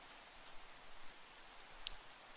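Rain falling over a desert in Minecraft, a faint, soft and steady hiss of drops with slight rises and falls in level and no other sound.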